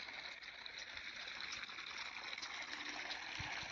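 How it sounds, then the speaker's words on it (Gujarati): Irrigation water flows through a coriander field, making a steady, faint rushing gush that continues without a break. "જો આ ભાઈ અમારે પાણી વાળે છે"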